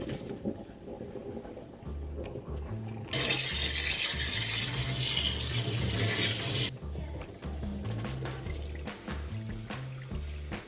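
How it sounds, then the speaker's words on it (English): Excess water from cooked rice is drained into a sink for bibimbap, a burst of rushing, splashing water lasting a few seconds before it stops, set over quiet background music. "Now we're going to drain this and remove the excess water."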